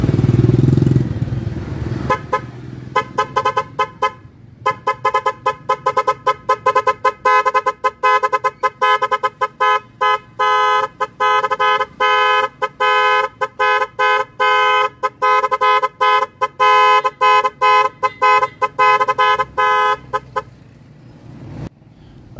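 A 12-tone musical car horn plays rapid melodic patterns of bright, choppy electronic tones in quick bursts. It is loud and close and runs for about twenty seconds before it stops.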